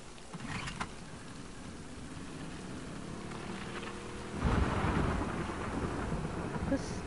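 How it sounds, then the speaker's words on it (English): A thunderstorm rages in The Last of Us Part II, with steady rain and wind under a rolling crack of thunder that swells about midway and stays loud. "And every once in a while a crackle of thunder will match like with the wind blowing."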